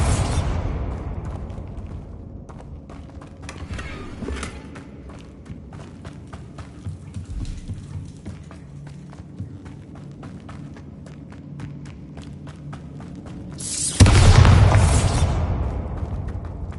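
A Bombarda blasting spell exploding in Hogwarts Legacy: a loud burst with a deep boom near the end, after a stretch of footsteps, scattered thumps and a faint earlier pop.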